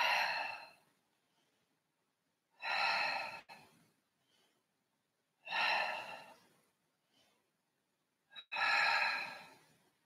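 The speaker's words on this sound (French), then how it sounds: "Expirez, inspirez, expirez," Four slow, deep breaths during a Pilates exercise on a chair, each a loud, close, breathy exhale or inhale separated by near silence, with small gasps between.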